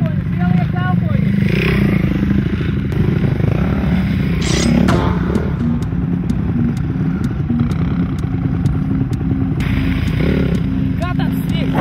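A motocross motorcycle ridden at a training camp, its engine droning loudly and steadily close by with rough revving, clattering and scraping, while people talk over it.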